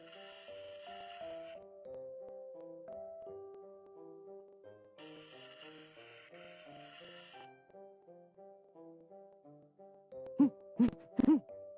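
A cartoon owl hoots in a children's drawing animation, soft tonal calls over light, gentle music, followed by a few sharp, louder bursts near the end.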